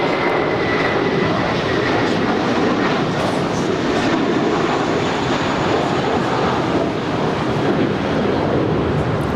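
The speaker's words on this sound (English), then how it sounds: "This is American 899 departing to Phoenix. It's a 10-year-old Airbus A321." An American Airlines Airbus A321, ten years old, departing Los Angeles International Airport, a loud sustained jet engine roar that fills the clip evenly, with no voices.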